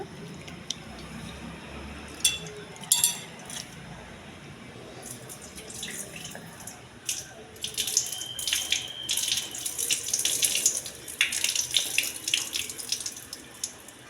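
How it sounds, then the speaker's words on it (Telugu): Soaked millet rice being drained, its water poured off in uneven splashy bursts that build and grow louder toward the end, close and alone with no voices. "నీళ్ళు మొత్తం వంపేయాలండి"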